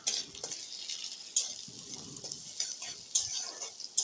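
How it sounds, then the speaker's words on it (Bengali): Chopped garlic and green chili fry in a pan, with a soft sizzle broken by repeated scraping of a spatula stirring against the pan at close range. "রসুন কুচি দিয়ে দিয়েছি ভালো করে ভেজে নেব দিয়ে দেব কাঁচা লঙ্কা"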